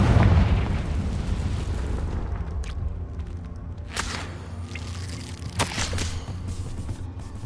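Confringo explosive spell in Hogwarts Legacy: a heavy booming blast at the start that rolls off slowly, followed by a few sharper pops and cracks later over quiet game ambience.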